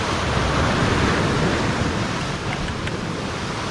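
Pacific Ocean surf rolls onto the shore during rock bass fishing, a loud, steady broadband wash of breaking water and wind that eases slightly toward the end, with no voices.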